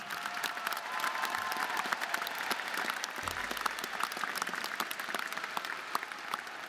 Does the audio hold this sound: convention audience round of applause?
yes